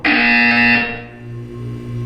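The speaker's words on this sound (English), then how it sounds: "When you hear the buzzer, look down at the floor." A loud electronic buzzer sounds in the video game Portal 2, one sustained harsh tone that cuts off abruptly and leaves a lower hum ringing underneath, with no talking.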